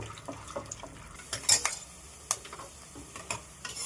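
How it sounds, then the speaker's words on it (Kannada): Peanuts fry in oil in a pan while a metal ladle stirs them, giving sharp scraping clinks against the pan over a low sizzle, close and brief, with no speech. "ಈಗ ಚೆನ್ನಾಗಿ ಫ್ರೈ ಆಗಿದೆ ಕಡಲೆಬೀಜ"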